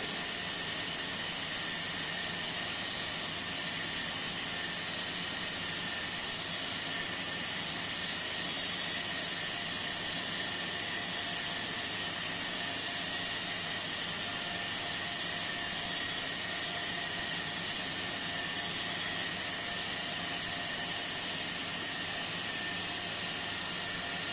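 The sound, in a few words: induction motor starting up and running at no load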